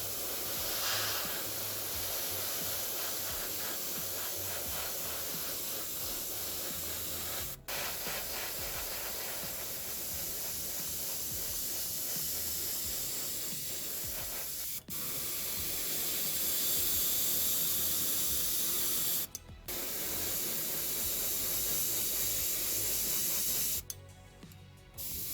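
An airbrush sprays light coats of Vallejo Russian green 4BO base coat onto a BT-5 model tank, a steady close hiss with a few brief pauses between passes.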